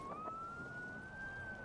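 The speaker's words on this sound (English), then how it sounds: "You just hear all the sirens." Police sirens in the BeamNG.drive driving game, a steady high electronic wail that slowly rises in pitch, fairly faint and heard alone without talk.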